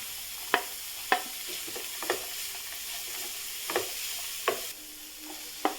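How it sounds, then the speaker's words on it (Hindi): Carrots, peas and beans stir-fried in a pan for a Kolkata street-food veg roll: a steady sizzle with regular scrapes and taps of the spatula against the pan about once a second, close up and without talk. "इन दोनों को हम भून लेंगे। बस अब इसमें डाल रहे हैं बीन्स"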